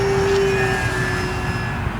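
A radio-controlled electric ducted-fan model jet flies overhead, giving a steady, sustained whine and airy roar at even loudness, with no voices.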